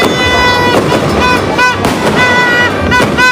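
New Year fireworks crackle and pop in a steady, dense barrage, loud and nearby, with whistling streaks and sharp bursts layered throughout.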